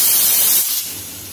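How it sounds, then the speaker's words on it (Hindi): Steam escapes from a pressure cooker cooking moong dal for Muradabadi dal, a loud, close, steady hiss that tapers off near the end. "कुकर में से स्टीम निकल चुकी है"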